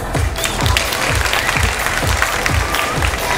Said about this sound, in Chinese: 掌声送给你们自己，好吗？